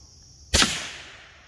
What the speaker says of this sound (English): Daniel Defense 300 blackout suppressed against sheetrock.